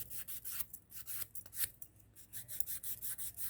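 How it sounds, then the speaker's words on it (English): A nail file rasps repeatedly across toenails to roughen their surface before acrylic application, a close, quiet series of short back-and-forth strokes in an uneven rhythm. "So I'm filing my nails,"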